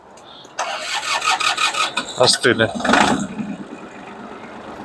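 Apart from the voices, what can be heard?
Japanese mini tractor engine starting in cold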